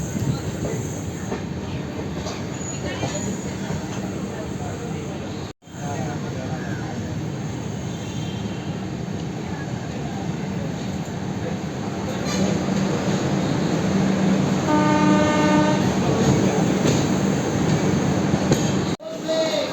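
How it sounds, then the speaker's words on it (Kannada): Steady rumble and rattle of the moving Grand Trunk Express passenger train from Chennai Egmore, heard from inside at night, with a faint squeal; a voice talks over the noise at times. "ನಮ್ಮ ಟ್ರೈನು ಚೆನ್ನೈ ಎಗ್ಮೋರ್ ಆದಮೇಲೆ ಚಿಕ್ಕ ಚಿಕ್ಕ ಸ್ಟಾಪ್ಸ್ನೆಲ್ಲ ಸ್ಕಿಪ್ ಮಾಡಿಕೊಂಡು ಹೋಗ್ತಾಯಿದೆ"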